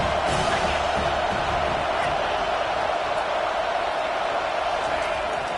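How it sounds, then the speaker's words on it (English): A stadium crowd at a football game roars in a constant dense wash of cheering, steady and loud throughout with a commentator's voice faintly underneath. "The roar of the crowd trying to fuel this defense to keep them pinned in their own end."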